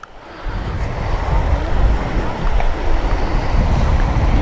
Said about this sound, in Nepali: नदी परबाट बग्दै आएको बालासन नदी हो यो चाहिँ